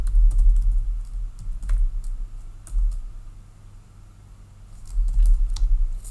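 Fingers tap on a computer keyboard in short, irregular bursts of sharp clicks, loud and close, with brief pauses between clusters of keystrokes.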